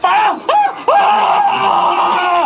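A man screaming loudly in a Filipino aswang horror tale, with three strained wavering cries in quick succession that flow into one long sustained scream, close and intense.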